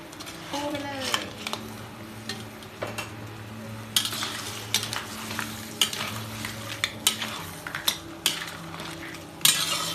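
Crab being stirred with chili paste in a hot pan, a spatula clinking and scraping in repeated strokes over a low sizzle, with someone talking at times.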